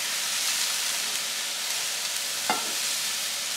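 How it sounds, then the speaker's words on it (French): Mushrooms frying in a pan while being stirred, a loud continuous hiss of sizzling broken by a single short scrape from the utensil, close and steady throughout. "tiens la poêle d'un côté et puis remue de l'autre"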